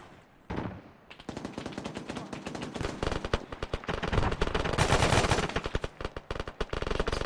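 Heavy .50 cal gunfire in ARMA 3, a dense and loud run of rapid automatic bursts after a brief quiet start, sustained and booming with overlapping shots, no voices.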